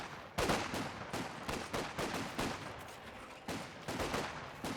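Infantry gunfire in Company of Heroes 2 rattles out as rapid rifle and machine-gun shots, sharp cracks arriving in irregular clusters with distant echoing tails, moderately loud and without voices.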